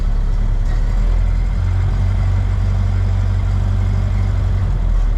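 Ford Model A engine running on a cold day with a little gas, a loud, steady low rumble with an even chugging beat throughout, close by and without talking.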